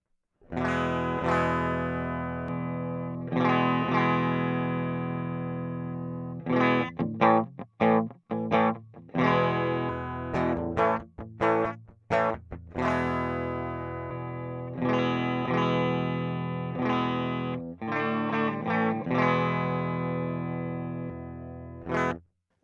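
Distorted electric guitar through a NuX Mini Studio IR loader pedal plays chords and rhythmic riffs with choppy stops, a processed amp tone with slight chorus and reverb, loud and close.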